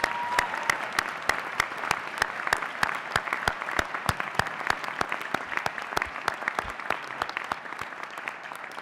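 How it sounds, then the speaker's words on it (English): An audience at a college undergraduate recognition ceremony claps steadily and moderately, a dense patter of hands that keeps up evenly for several seconds with no voices over it. "So let's all give Julie a round of applause"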